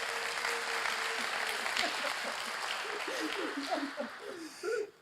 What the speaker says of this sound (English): hereby, again, please, the big applause